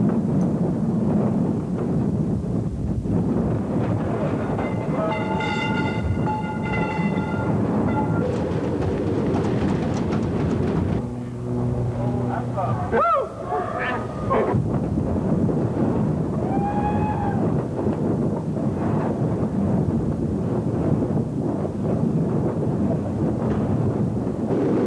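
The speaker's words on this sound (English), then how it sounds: "Those 135-mile-an-hour winds and the heavy rain" Hurricane Hugo's 135 mph winds roar with heavy rain in a dense, continuous rush, punctuated by passing rumbles, knocks and tonal whines, with no talk.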